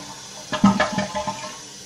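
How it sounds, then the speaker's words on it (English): A Kohler Wellworth toilet flushes in a short, close burst of rushing water lasting under a second, then settles into a quieter trickle. "Just gonna flush it."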